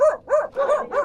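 A dog gives four quick, high, yelping barks in an even rhythm, close and clear.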